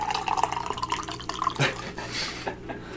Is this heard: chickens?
no